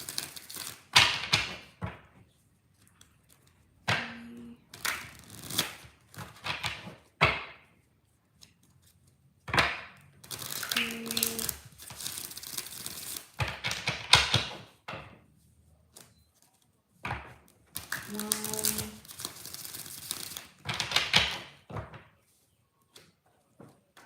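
A deck of tarot cards being shuffled up close: repeated short bursts of riffling and card slaps, with brief pauses between them and no talking.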